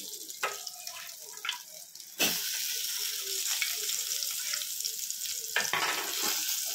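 Onions and garlic frying in a pan after green chillies, a steady loud hiss that jumps up suddenly and holds, with softer stirring clicks before it and a fresh burst of sizzle near the end.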